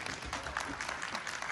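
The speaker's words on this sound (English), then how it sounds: "Please give her a big round of applause." Audience applause at a Chinese-American conference keynote event, a steady wash of clapping from a crowd heard at moderate level throughout, with a little murmur underneath.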